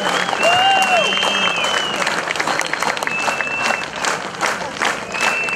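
A folk festival audience in the Rakhiv area breaks into loud, sustained applause and ovation, dense clapping close by, with whistles and shouts rising over it before the clapping thins toward the end.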